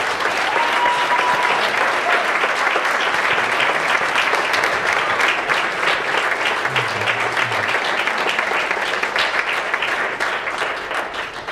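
Sustained applause from a large graduation audience honoring a Los Angeles high school, dense steady clapping throughout that tapers slightly at the end.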